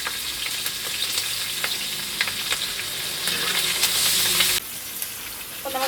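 Curry leaves crackle and sizzle in hot oil for a fish pickle, a loud hissing fry with spatters and stirring clinks that swells then drops suddenly near the end.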